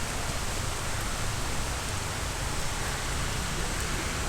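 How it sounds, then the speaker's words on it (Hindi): Heavy monsoon rain pours at the Kanheri Caves near Mumbai, a dense, unbroken hiss of downpour that stays loud and even throughout with no voices. "रुक रुक कर झमाझम बारिश हो रही है"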